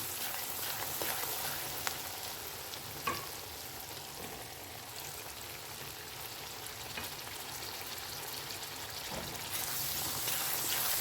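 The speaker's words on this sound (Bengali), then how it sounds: "এটার মধ্যে আমি কেটে রাখা দুটো মিডিয়াম সাইজের টমেটো অ্যাড করে দেবো" Two chopped tomatoes sizzle in a pan of frying methi chicken, a faint, even hiss with a few light clicks of stirring, swelling slightly toward the end, and no talking.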